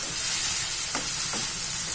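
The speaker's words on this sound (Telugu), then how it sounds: "ఉల్లిపాయలు ఇలా ఫ్రై అయిన తర్వాత సన్నగా కట్ చేసుకున్న టమోటా ముక్కలు 2 వేసి వీటిని కూడా బాగా మగ్గించుకోవాలి." Finely chopped tomatoes frying with onions in a pan, a steady close sizzle with a couple of soft stirring scrapes, no voices.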